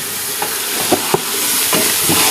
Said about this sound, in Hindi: मसालों के साथ साथ ही मैं शामिल कर रहा हूँ ये नलियाँ। अब इसकी होगी भुनाई।